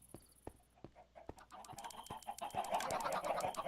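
Chickens cluck and chirp in a video game, a scattered run of short calls and clicks that grows busier and louder toward the end, with no talking.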